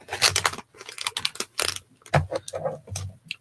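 Scissors snip and tear through the packaging of a comic book mystery box, a close, quick series of sharp cuts and crinkles with brief pauses between.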